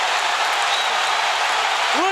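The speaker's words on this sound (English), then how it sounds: "Listen to the crowd." Boxing arena crowd during the Crawford vs Gamboa fight, a dense continuous roar of cheering and applause filling the space, loud and sustained, with a broadcast voice faintly over it.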